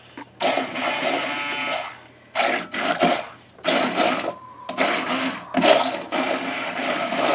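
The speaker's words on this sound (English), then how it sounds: "I'm going to use a stick blender or an immersion blender to make my little slurry" An immersion stick blender whirs through a slurry of deer brain in repeated bursts of a second or two, loud and close, each burst separated by short pauses.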